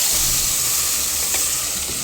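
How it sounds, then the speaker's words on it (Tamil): Lamb lung curry sautés in a pan with a steady, loud sizzle and a hiss of frying that holds throughout, with no voices. "நல்லா வதக்கணும்."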